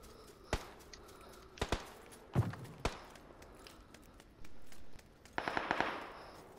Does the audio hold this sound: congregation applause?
no